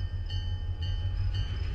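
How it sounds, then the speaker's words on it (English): Class 170 diesel multiple unit in London Midland livery running in Train Simulator 2013, a steady low rumble of engine and wheels with a faint hiss above, continuous and close throughout, no talking. "So it's a London Midland train, it's a class 170"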